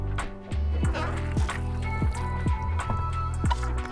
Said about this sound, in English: So drain the board, get rid of any excess moisture.